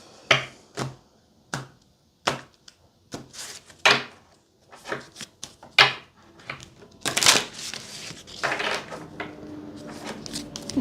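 Tarot cards shuffled and drawn by hand, a series of sharp, close flicks and slaps in an irregular rhythm, building into a denser riffling burst toward the end.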